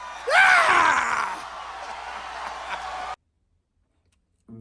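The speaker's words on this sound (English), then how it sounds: "That simple, odd yell has its own damn Wikipedia page because it ruined Howard Dean's presidential campaign" Howard Dean's scream at a 2004 campaign rally, a loud, hoarse rising yell that rings out over a cheering crowd. The crowd noise carries on for a few seconds and then cuts off abruptly.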